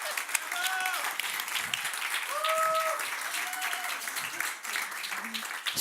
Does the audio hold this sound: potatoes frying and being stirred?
no